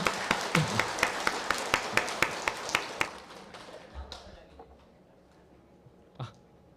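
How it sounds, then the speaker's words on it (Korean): A congregation at a Sunday service claps in a sparse, rhythmic round of a dozen or so distinct claps that fade out after about three seconds, leaving quiet room tone and a few stray knocks. "좋은 말씀 해주신 우리 도타원님께 다시 한번 큰 박수 부탁드리겠습니다"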